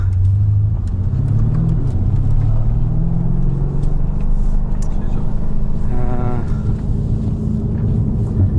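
BMW M5 Competition in two-wheel drive, second gear, spinning its rear tires to warm them before a launch: a loud, close engine roar with rising and falling revs, steady throughout with a brief higher rev burst near the end.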